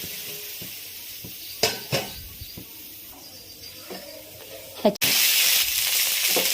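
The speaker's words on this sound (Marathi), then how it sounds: "ह्याच्यात असं तेल टाकून आपल्याला छान असं भाजून घ्यायचंय भेंडी" Sliced okra (bhendi) with oil in a pan, with a few clanks of utensils on the pan, then a sudden loud, steady sizzle of frying that takes over at the end, close up.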